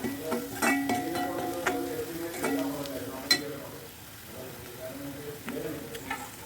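Chili powder sautéed in a pan while the cook speaks throughout, with soft frying sizzle beneath the voice and a few light metallic clinks and scrapes of stirring.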